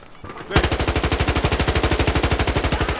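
Automatic gunfire in the Battlefield video game: after a quiet half-second, a loud, sustained burst of rapid, evenly spaced shots rattles on without a break.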